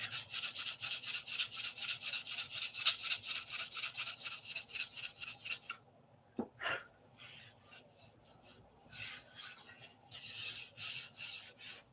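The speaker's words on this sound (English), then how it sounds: "Take your fingernail and rub it along, and if your fingernail catches" A fingernail rubs along a machined metal surface on aircraft flap parts, giving a fast, regular rasping scrape for about six seconds, then a brief sharp click followed by softer, intermittent scraping strokes.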